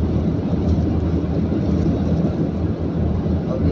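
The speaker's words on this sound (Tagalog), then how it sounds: "Bagyo sa Saudi, bagyo." A storm wind blows hard through Jeddah, Saudi Arabia, as a loud, steady, roaring rush that buffets the microphone without letup.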